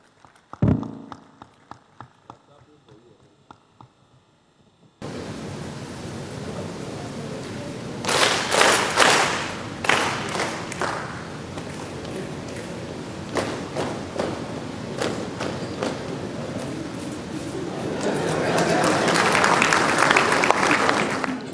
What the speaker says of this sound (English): We will clap for ourselves so that we can initiate you in the PedaL movement.